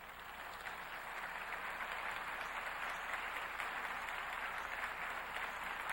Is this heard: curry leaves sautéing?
no